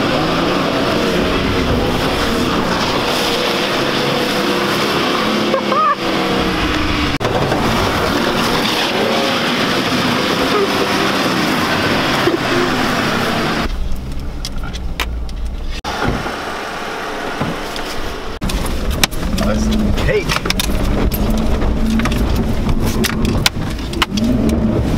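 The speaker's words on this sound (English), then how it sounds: "Thank you for letting me drive that Jeep." A Jeep Wrangler drives off-road through mud with loud, continuous engine roar and strain that rises and falls, plus scraping and churning noise, heard close throughout with a brief dip partway.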